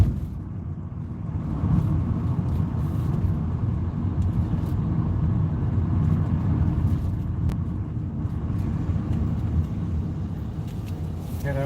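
A tow truck idling on a city street, a steady loud low engine rumble that holds constant throughout, with faint passing traffic noise mixed in.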